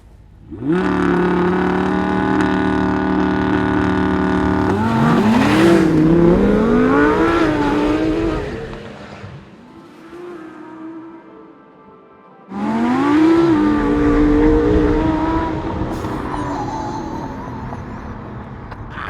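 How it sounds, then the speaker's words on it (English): A Honda NSX, an Audi R8 V10 Plus and a Porsche 911 Turbo launch off the line: engines rev hard and climb through rising gear pulls, drop to a low idle, then roar and accelerate again, loud and close. "let's give this a go and see if the new NSX can take care of an Audi R8 V10 Plus and a 911 Turbo off the line"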